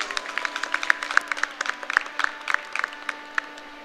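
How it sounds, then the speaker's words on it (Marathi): Moderate applause from an audience at a felicitation ceremony during a matrimonial introduction gathering, with separate claps fairly close over a steady hum. "जोरदार टाळ्या वाजवाव्यात त्यांच्यासाठी"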